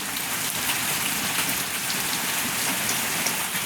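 Steady rain falls in a village setting, a dense, even hiss of drops on surfaces that continues unbroken and fairly loud throughout, with no voices.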